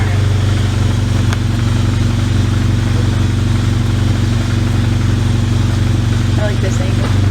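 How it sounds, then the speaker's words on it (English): A stock APR-tuned Volkswagen GTI's exhaust drones at a steady idle, a deep, loud, continuous rumble with slight clattering texture and no change in pitch. "I want to get an exhaust clip"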